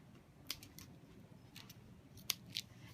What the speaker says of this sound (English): So you can see where I have cut starting at the hook part of the Velcro, and I've gone all along this faggot stitch.